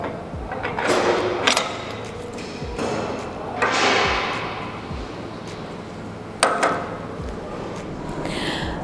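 Steel press brake tooling on a horizontal PP200 bending press is set into its working position, giving several loud, sharp metallic clanks and thuds at irregular intervals over a steady background hum.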